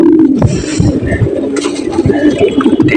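Pigeons coo steadily in low, throaty rolling calls, several birds overlapping close by with a constant murmur and no speech.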